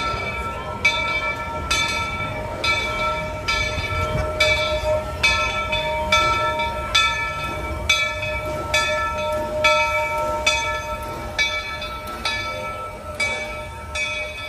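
Walt Disney World Railroad steam train at Main Street Station, its bell ringing in a steady repeated clang over the low rumble of the train, close and clear with no talking.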